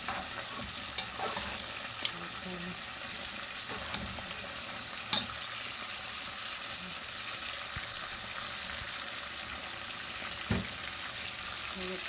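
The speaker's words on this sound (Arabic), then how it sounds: "الباطيط حيدتها دابا كنحمرها في الزيت" Potatoes frying in hot oil, a steady close sizzle and bubble with occasional soft clinks and stirs, no talking.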